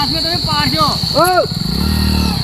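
A motorcycle engine rumbles nearby with a steady idle under overlapping voices talking, the engine note rising slightly toward the end.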